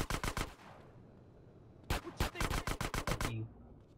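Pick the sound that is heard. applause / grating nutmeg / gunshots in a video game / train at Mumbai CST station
gunshots in a video game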